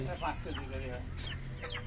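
Vietnamese-breed chickens on a rooftop garden cluck repeatedly, near and clear, in short uneven calls over a steady low background hum.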